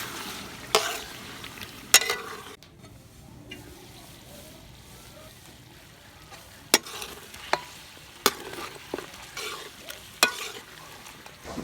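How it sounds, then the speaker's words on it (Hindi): Yogurt being stirred into Shinwari beef karahi cooking in a village kitchen, with a soft steady sizzle of frying under repeated sharp clanks of a spoon against the pot. "अब इसमें शामिल करेंगे हम दही और इसको अच्छी तरह मिक्स करके दोबारा से इसकी बुनाई करेंगे"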